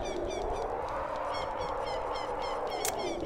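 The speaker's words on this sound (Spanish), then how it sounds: "el sonido de las gaviotas me parece que está mucho más alto que otro" Seabird cries repeat over a constant wash of ocean-like ambience, the calls fairly distant, like gulls in The Legend of Zelda: Ocarina of Time on the N64.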